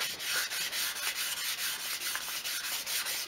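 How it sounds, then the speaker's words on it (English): Hand sanding of an alloy wheel from a Toyota Celica with 400 grit sandpaper: steady, close rubbing strokes in an even back-and-forth rhythm, with no talk. "We gently sand the surface down"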